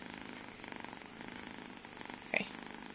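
A cat purrs close by, a soft, steady rhythmic rumble, with a brief faint sound partway through.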